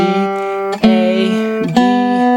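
Sustained bowed string notes step through a scale, each pitch held steadily before sliding to the next, rich in harmonics and played alone with no talk.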